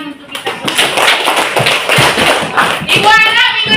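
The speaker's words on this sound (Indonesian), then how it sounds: "tepuk tangan untuk kita" Children in a classroom clap their hands together in a quick burst of fairly loud, uneven claps, with kids' voices chattering over the clapping near the end.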